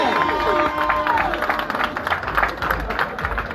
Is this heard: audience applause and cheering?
yes